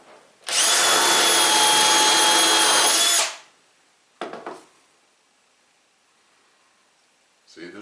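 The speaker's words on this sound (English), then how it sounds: "I'm going to use this to drill a hole in this piece of wood." An electric drill bores a hole in a piece of wood in one loud, whirring burst of about three seconds, then falls silent except for two brief handling clatters.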